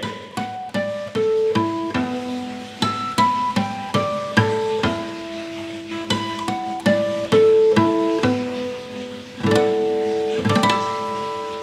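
Bell-like harmonics on an acoustic guitar ring out one by one, clear chiming tones plucked at an unhurried pace, some notes overlapping as they sustain.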